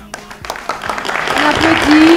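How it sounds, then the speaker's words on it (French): Applause from the studio audience of a French TV quiz show builds up over about two seconds, rising from scattered claps to fuller clapping with a voice and a musical tone over it. "On applaudit."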